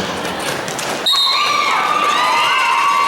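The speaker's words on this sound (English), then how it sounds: "Forecloser brought herself the cheering section today." A cheering section shouts and cheers for a skater at a roller derby bout between Terminal City and Sacred City. Muffled arena noise gives way to a sudden loud burst of shrill, sustained cheering that carries to the end.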